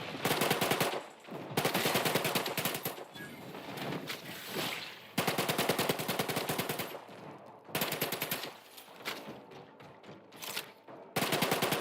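Automatic gunfire in the video game The Outer Worlds, loud rapid bursts of shots in several long volleys separated by short pauses.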